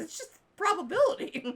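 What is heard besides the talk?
dog barking indoors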